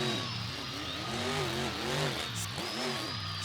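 A race car drifts in a racing video game, its engine revving hard with rising and falling pitch that bends through the turn. A faint high squeal rides above the loud, steady engine drone.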